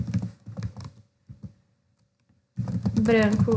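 Computer keyboard typing comes in short bursts of rapid clicks, then falls quiet before a person starts talking over the last stretch.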